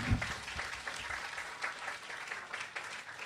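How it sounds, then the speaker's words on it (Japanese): An audience at a security community evening event applauds after a speaker's talk, steady dense clapping of a sizable indoor crowd lasting the whole few seconds at moderate level. "皆さん拍手お願いいたします。"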